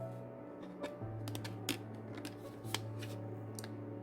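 Scissors snip notches into a paper envelope with several short, crisp cuts spread irregularly over a quiet background hum, close by, with no talking.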